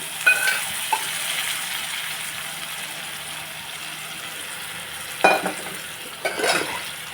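Seasoned mutton pieces fry in an oil-filled pan with a soft, steady sizzle, interrupted by a few sharp scrapes and clinks of a spatula stirring against the metal.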